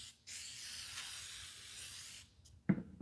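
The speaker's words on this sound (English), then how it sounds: "we're gonna just spray it on like so" A steady aerosol prep spray hisses onto a plastic car part for about two seconds, then cuts off, followed by a brief soft knock.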